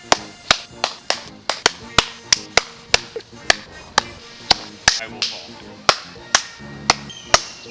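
Sharp hand claps ring out in the woods, a long series of crisp, evenly spaced claps with short decays, mixed with some quieter taps and a person speaking briefly.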